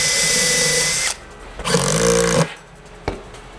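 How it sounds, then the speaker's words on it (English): A power drill drives screws into a subwoofer baffle board during assembly of a Paraflex Type O CRAM 2x21 speaker kit: a loud whirring burst, a short pause, a second longer run, then a brief final blip, all close by. "I like to put one screw into the board, then drill the rest out"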